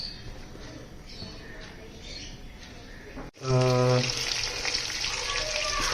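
Marinated fish hitting a hot pan for an Indian salmon fry: a quiet stretch of room tone, then an abrupt loud burst of sizzling that settles into steady, close crackling and spitting oil.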